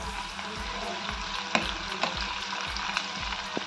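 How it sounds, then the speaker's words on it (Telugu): Onion and curry leaves frying in oil: a steady, close crackling sizzle with rhythmic stirring strokes roughly every half second and occasional sharper pops, no voices. "ఆనియన్, కరివేపాకు అన్నీ బాగా ఫ్రై అవ్వాలి"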